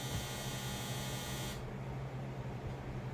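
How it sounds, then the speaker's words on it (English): The buzzer on a clothes dryer sounds in one loud, steady electronic buzz for about a second and a half, then stops, leaving a low mains-like hum underneath. "On this dryer, you cannot turn the buzzer off."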